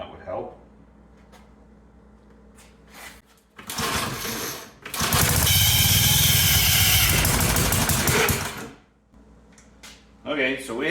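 A Briggs small engine is pulled over with its choke on, coughs briefly, and then catches. It runs loud, high-pitched and screaming for several seconds close by before it cuts out, with fiddling noises before and after.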